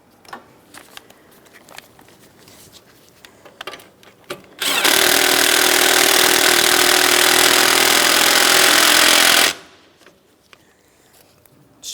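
A power tool snugs up a 10mm bolt on the radiator mounting of a 2008-2016 Chrysler Town & Country 3.8L V6, giving a loud steady whir for about five seconds between quieter clicks and handling noises.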